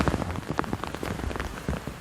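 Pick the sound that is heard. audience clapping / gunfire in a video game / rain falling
rain falling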